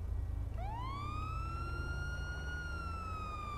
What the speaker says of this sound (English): Hit that siren